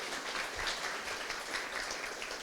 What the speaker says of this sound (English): another quick round of applause for 7 Shifts for helping us sponsor this event